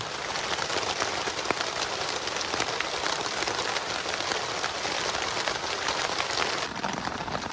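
Steady rain falls on a tent on Mount Salak, a dense, even patter that stays constant and fairly loud from start to finish, with no voices.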